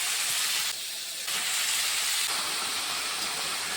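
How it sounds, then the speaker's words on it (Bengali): Washed ash gourd pieces hit a hot pan holding katla fish and chili powder, setting off a loud, continuous sizzling hiss that dips briefly and then surges again close up. "এবারে ধুয়ে রাখা চাল কুমড়োগুলো দিয়ে দেবো।"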